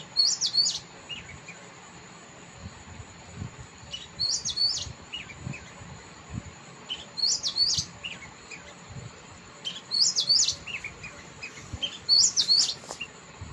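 A small bird gives short bursts of high, sharp chirps every couple of seconds over quiet background noise, fairly close and clear.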